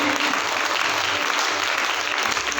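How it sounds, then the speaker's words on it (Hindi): Audience clapping steadily in welcome of guests at a spiritual gathering, a dense, even wash of hands close by that holds at full strength without a break. "जब हम तालियां बजाते हैं तो तालियों की गड़गड़ाहट, तालियों की गूंज हमारे अतिथियों का तो स्वागत अभिनंदन करती ही है"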